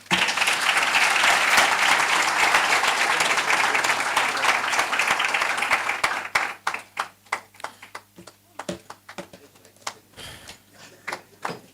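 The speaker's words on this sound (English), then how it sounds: "Round of applause once again, ladies and gentlemen." An audience at a university research day event applauds a Deputy Chief Justice after her speech, dense, loud clapping for about six seconds that then thins into scattered individual claps before dying out.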